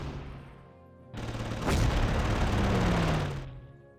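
Artillery salvo in the WWII strategy game Panzer Corps, a single heavy blast that swells into a rumbling roar lasting about two seconds, then fades, with no talking.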